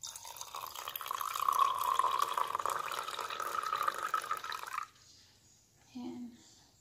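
Black tea poured over black sago pearls for bubble tea, a steady liquid pour splashing for about five seconds, then stopping, with a short faint sound after.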